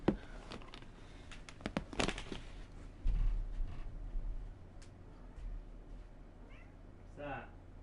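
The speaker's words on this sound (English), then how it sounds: "I gotta see what this cat's playing with." A cat meows several times while apparently batting at and playing with something, the calls brief and fairly close, with a person talking over much of it.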